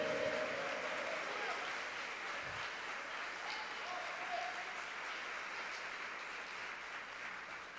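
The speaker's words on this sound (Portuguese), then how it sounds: "Aplauda ao Senhor" Congregation clapping during a Pentecostal-style church service, a steady faint wash of applause from a distance, with a voice briefly audible in the background.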